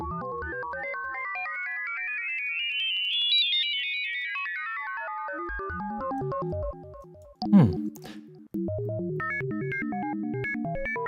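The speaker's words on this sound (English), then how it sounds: "ring modulation, perhaps limited application for lead sounds, but fantastic for special effects and clangy enharmonic sounds" A ring-modulated synthesizer tone with clangy, metallic, enharmonic overtones sweeps up and back down, then breaks into a burst of noise before settling into wobbling, bell-like pulses.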